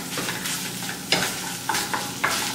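Requesón frying in a pan hisses and sizzles steadily up close while a utensil stirs it, with a few sharper scraping clicks standing out.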